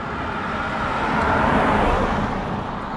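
A car on a residential street in the USA rolls past as a steady, loud broadband whoosh of tyres and engine, swelling slightly mid-pass and then holding, with no talking.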